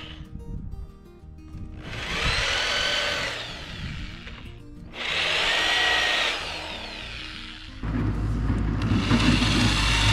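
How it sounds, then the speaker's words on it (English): A power drill bores tap holes into a steel blade in a home workshop while building a logging winch, in three sustained loud whirring bursts separated by short pauses, with a lower hum under the final burst. "drill tap holes in the back blade"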